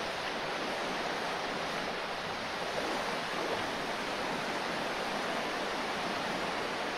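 Running water in the modded video game Minecraft, a dense, constant wash of flowing water that fills the whole stretch evenly with no voices.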